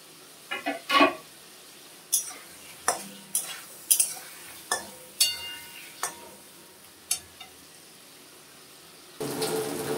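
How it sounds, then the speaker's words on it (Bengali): Pointed gourds are stirred into a spiced masala in a pan, giving a string of about a dozen sharp spoon-on-pan scrapes and knocks over a soft sizzle, followed by a louder burst of frying at the end. "এখন আমি পটলগুলি দিয়ে দেব।"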